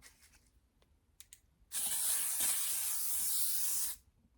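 L'Oreal Infallible setting spray goes off in one steady, loud hissing burst lasting about two seconds, preceded by a few faint clicks and handling noises.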